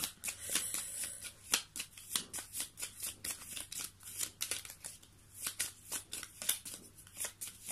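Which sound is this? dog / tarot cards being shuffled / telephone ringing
tarot cards being shuffled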